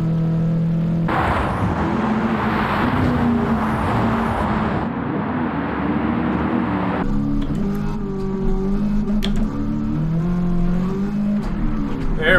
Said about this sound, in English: Get that supercharger rolling.